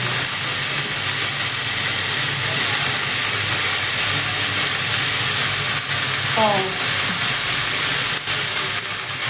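Salted peanuts dropped straight into a hot pan for a green chilli peanut curry, a loud, steady frying sizzle and hiss close up, with a brief rattle as the nuts go in.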